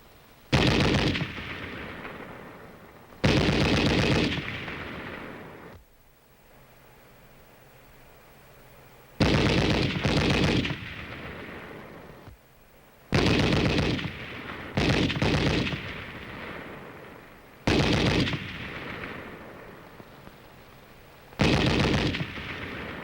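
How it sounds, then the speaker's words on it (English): Loud bursts of gunfire crack and rattle in repeated volleys, with bullets whizzing overhead, separated by short pauses of low background noise, sharp reports echoing close by. "the sound of bullets whizzing overhead"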